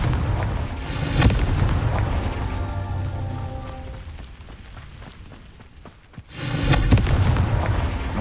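In Hogwarts Legacy, a Confringo spell detonates with a heavy booming blast that rumbles and fades, followed by a second loud burst near the end.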